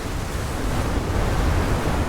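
A big surge of water crashes and roars through a scene in the video game Outer Wilds: Echoes of the Eye, a loud, steady rushing wash that stays at full strength throughout with no voices.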